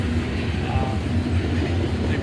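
A loaded coal train rolls along a railroad line near Siam, Ohio, bound for the Sandusky docks. Its steady, loud, close rumble of wheels and cars continues without a break.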